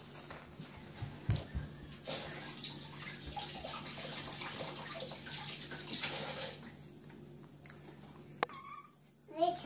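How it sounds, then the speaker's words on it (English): A tap runs while something is washed under it at home, a soft, fairly faint stream of water with small splashes, and a voice and other household sounds come through briefly. "Would you like me to wash it for you?"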